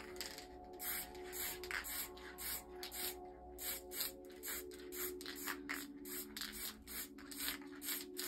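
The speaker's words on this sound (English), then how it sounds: "I'm just going to spray a bit of black at the bottom." Spray paint can hissing black paint onto a glass panel in bursts, a steady broad hiss pulsing with short pauses between sprays, fairly quiet and close, with no talking.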